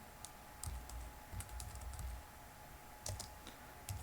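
Keys clack on a computer keyboard in short quick bursts with pauses as a Linux encryption command is entered, close and fairly quiet with no talk.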